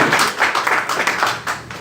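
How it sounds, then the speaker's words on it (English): A seminar audience gives a presenter a round of applause, scattered hand claps pulsing in uneven bursts for a short moment, fairly close and without voices on top. "We'll give Rajiv a round of applause."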